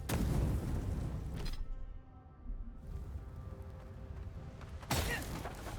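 An explosion in the fantasy video game Avowed: a loud, broad boom at the start that trails off, followed by rumbling game ambience and a second burst near the end, with no talking.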